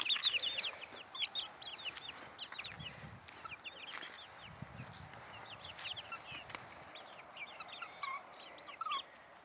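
Backyard chickens cluck and chirp in a busy, irregular chorus of short calls at moderate distance, with faint thumps and rustling beneath and a few scattered louder squawks.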